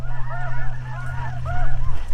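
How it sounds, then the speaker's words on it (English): Several small cackling geese honk and cackle together in overlapping high calls during a goose hunt, over a loud, steady low engine-like hum. "We got little geese, little cacklers."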